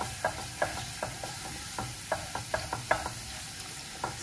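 Pepper paste stirred in olive oil in a pan: a faint, steady sizzle under a run of light, irregular scraping and tapping strokes from the stirring, close by and fairly quiet.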